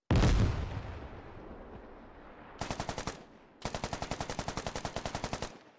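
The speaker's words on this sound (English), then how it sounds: "I'm getting shot in the bunker now." Automatic gunfire in the military shooter Squad, aimed at a bunker: a loud opening blast, then two sustained bursts of rapid, evenly spaced shots, close and with no talk.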